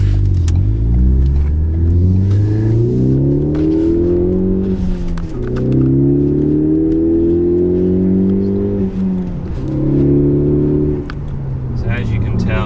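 A 2017 Ford Focus ST with a CNT Racing cat-back exhaust accelerates hard, its loud engine note climbing through several gear pulls with brief dips between shifts, heard from inside the car.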